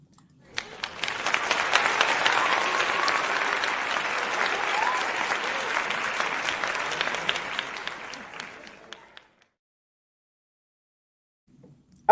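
A canned applause sound effect plays during a StreamYard live stream, a dense crowd clapping that swells in quickly, holds steady for about eight seconds, then cuts off abruptly into silence.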